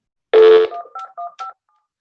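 Telephone keypad tones from dialing on a GTE Express line: one long loud tone followed by three shorter beeps in quick succession, clean and close against silence.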